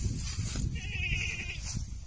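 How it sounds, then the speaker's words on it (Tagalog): A single drawn-out goat bleat rises in the middle of a noisy farm setting, moderately close, surrounded by rumbling background sound and muffled voices. "Yung mga kambing ko mga amigo"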